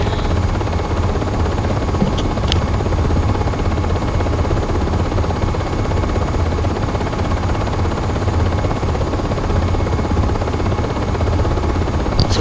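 A UH-60M helicopter in the Aerofly FS4 flight simulator cruises with a constant dense turbine and rotor roar, broadband and unbroken, with a couple of faint clicks standing out above it.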